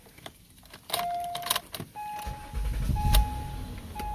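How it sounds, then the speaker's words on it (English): Acura MDX started with a newly programmed key fob: keys jangle and a brief chime sounds before the starter cranks, the engine catching with a low rumble and electronic tones over a steady idle. "Starts up the vehicle."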